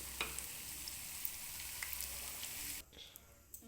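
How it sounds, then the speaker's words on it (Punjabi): Cauliflower pakoras in gram flour and rice flour batter frying in hot oil, a steady close crackling sizzle with small pops that drops away sharply near the end before light clinks. "ਬਸ ਇਹਨੂੰ ਹੁਣ ਆਪਾਂ 1 ਮਿੰਟ ਤੇ 1 ਮਿੰਟ ਹੋਰ ਫਰਾਈ ਕਰਾਂਗੇ"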